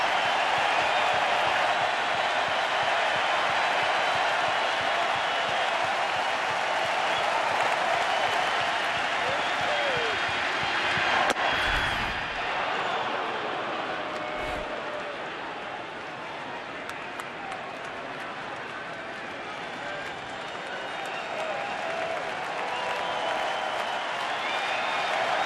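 Baseball stadium crowd at a Royals versus Blue Jays playoff game cheering and applauding, a broad sustained roar that swells, dips slightly, then builds again.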